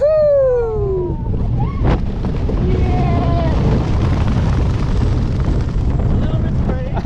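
Water spraying and splashing over riders on an Energylandia roller coaster, a loud continuous rushing wash with wind buffeting, after a brief shout of excitement.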